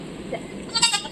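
A goat, loaded with two kids for a ride in an autorickshaw, gives a short bleat close by against quiet background noise.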